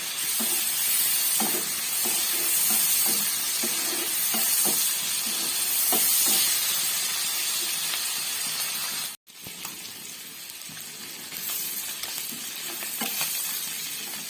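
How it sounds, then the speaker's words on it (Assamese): Small fish sizzle and hiss steadily as they fry in a pan, with repeated scraping and clinking from stirring and a brief silent break partway through. "মাছটো এতিয়া সুন্দৰভাৱে লৰাই ল'ম।"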